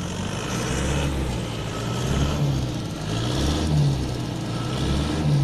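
An Isuzu Panther car on its standard exhaust is revved in repeated rising and falling swells, giving a moderately loud, rough mid-range engine rumble throughout with no voices.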